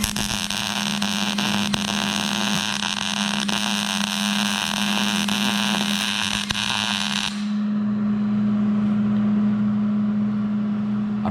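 A hobbyist wire feed welder laying a bead down a joint from the top, a steady loud crackling buzz with a constant electrical hum underneath that continues for about seven seconds and then stops, leaving the hum alone.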